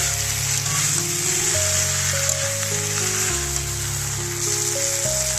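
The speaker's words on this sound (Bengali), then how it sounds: "এগুলো আমি সব একসঙ্গে আবারও কিছুক্ষণ কষিয়ে নেব।" Potatoes, okra and a spice paste of ground nuts with milk frying together in a pan, giving a steady, loud sizzle throughout over a continuous background tone, with no speech.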